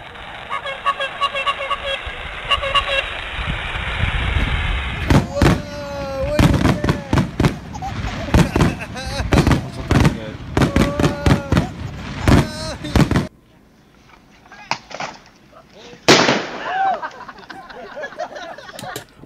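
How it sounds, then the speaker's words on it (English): Fourth of July fireworks bang and crackle in a rapid series of sharp bursts, mixed with excited voices and shouting, then a quieter stretch with a few scattered pops. "What is going on with these explosions in this video?"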